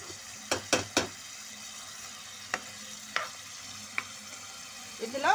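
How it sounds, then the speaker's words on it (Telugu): Cubed potatoes frying in hot oil for a coriander potato curry, with a soft steady sizzle broken by a few sharp clanks of a spatula against the pan, near and clear, with no talking. "వీటిని మనము ఫ్రై చేద్దాం ఫస్ట్."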